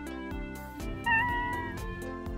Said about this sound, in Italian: Oh, un gatto!